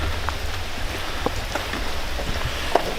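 Steady rain falling outdoors in mild southern weather, a dense continuous patter with a few louder individual drops, no voices present.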